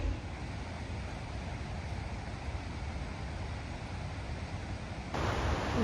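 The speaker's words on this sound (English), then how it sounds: "We had a river running right behind our camp last night, so it was awesome white noise all night." A raging river running right behind a campsite gives a steady, faint rushing white-noise wash throughout, growing suddenly louder and brighter near the end.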